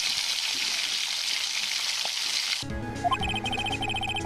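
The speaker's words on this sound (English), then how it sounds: "Add a sizzling clip, Martin." A sizzling effect like burgers frying on a grill hisses steadily and fairly loudly for a couple of seconds, then cuts off abruptly as tinkling game music takes over.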